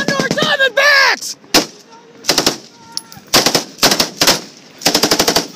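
Machine-gun fire in combat in Afghanistan crackles in several loud, rapid bursts separated by short pauses, with a brief shout at the start.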